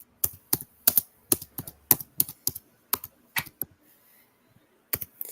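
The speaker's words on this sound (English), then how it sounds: "Sorry for the clicking noise." Rapid clicks of computer keyboard typing come in quick irregular bursts with short pauses, close and crisp, with no voices.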